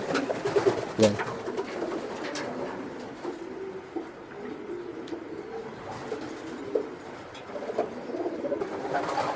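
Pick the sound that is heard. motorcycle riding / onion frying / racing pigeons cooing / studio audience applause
racing pigeons cooing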